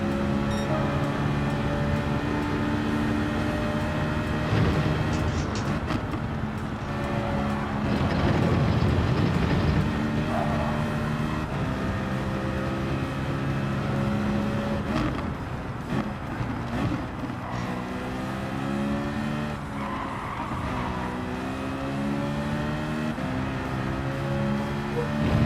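A race car engine in Gran Turismo 7 revs loudly and continuously, its pitch climbing and dropping through gear changes with no pauses.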